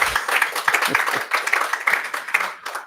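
Audience applause at a closing ceremony for a Resilient Islands program held in Panama, a steady wash of many hands clapping throughout at moderate level, thinning slightly near the end.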